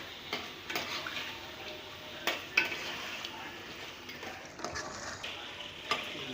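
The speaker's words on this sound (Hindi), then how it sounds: "बस इसको अब 2 मिनट तक भून लो चमचा चलाते हुए।" Keema being fried and stirred with a spoon in a pan, a steady low sizzle broken by scraping spoon strokes at irregular intervals, moderately close with no talk.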